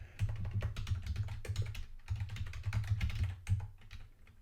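Fingers typing a password on a computer keyboard, a close, fast run of clicky keystrokes in uneven bursts with a brief pause partway through, no talking.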